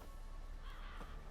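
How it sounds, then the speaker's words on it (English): Crows cawing in a swamp in The Witcher 3, a couple of hoarse calls rising over a constant dense ambient wash of game background noise. "Crows."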